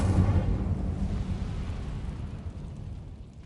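Incendio fire spell cast in Hogwarts Legacy, a heavy low whooshing burst of flame that erupts loudly at once and then rumbles and fades away over a few seconds.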